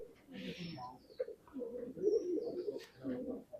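Pigeons cooing inside a pigeon loft, soft low repeated coos running through most of the clip, with faint chirps and some background voices.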